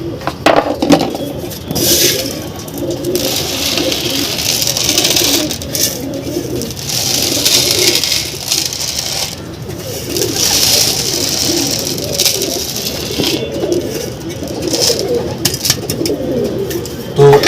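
Pigeons in a loft, about to be fed a supplement mix, coo repeatedly in loud, close, rolling calls, with scattered wooden knocks and rustling between them.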